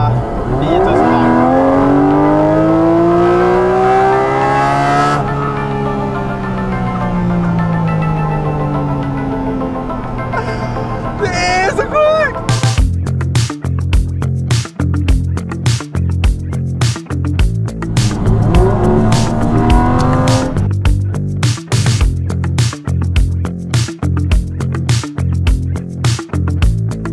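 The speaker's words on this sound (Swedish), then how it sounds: "Nu ska jag köra 2 timmar här med mina 9000 varv." A Porsche engine revving toward 9000 rpm on a drive in Norway: loud rising and falling engine whine, then a hard, rapid rhythmic pounding roar that runs to the end.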